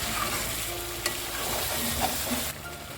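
Chicken curry with cream added sizzles in a pan under a steady, even hiss, with a couple of faint utensil taps and a drop in the hiss near the end; close, with no speech.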